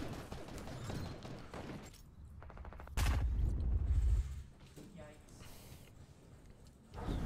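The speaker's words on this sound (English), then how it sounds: "Where are they shooting me from?" Video game gunfire, a quick rattling burst and a heavy blast, with a voice talking between the shots.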